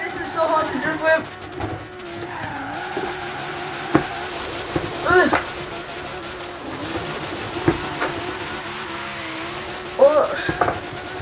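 A car drifts in the Forza racing game, played with a Logitech G920 force-feedback wheel: engine drone with several short, sharp tire squeals bursting out at intervals, fairly close and loud.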